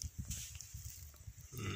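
A goat on a farm plot, bleating and moving nearby in a short burst of uneven calls and rustles, fairly close and clear, no talking.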